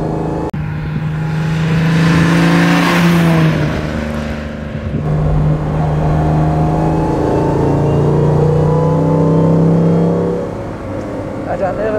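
A 1954 Mercedes 300 SL Gullwing, one of the first built, idles and revs nearby, its engine note rising and falling in steady swells for several seconds with a faint voice now and then.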